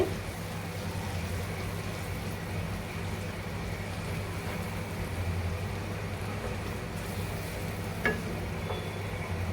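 Ground cashew paste stirred into masala frying in oil for chicken polao, giving a steady, even sizzle with soft stirring throughout and one brief clink near the end.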